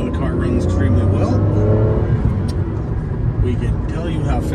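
2009 Aston Martin DBS Coupe with a 6-speed gearbox accelerating hard on a farm road, a loud, close engine roar rising in pitch through a quick burst, with speech over the top.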